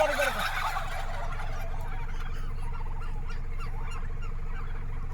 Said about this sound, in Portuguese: conseguiu fazer um exército de perus grasnar sob seu comando